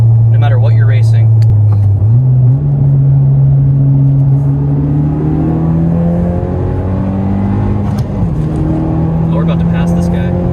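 A 2020 Honda Civic Si accelerates hard in third gear from a rolling start, its engine note climbing steadily and loud inside the cabin, with brief voices over the drone.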